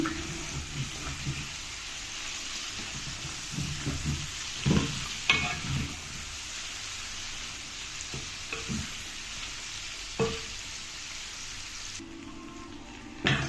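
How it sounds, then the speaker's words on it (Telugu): Salted fish frying in oil in a pan gives a steady crackling sizzle, with a few louder spits and stirring clatters along the way. "చేపలు ఇలాగా గోల్డెన్ కలర్లోకి వచ్చేంత వరకు బాగా ఫ్రై చేసుకోవాలి."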